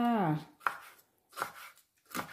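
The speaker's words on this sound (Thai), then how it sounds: "หั่นผักกันเลยค่ะ" A knife chops vegetables on a board in a few sharp, separate strikes after a short bit of speech at the start, close and fairly quiet.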